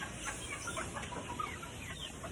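Gamefowl chickens at a breeding farm cluck softly in the distance against a steady hiss of background noise, no voices present.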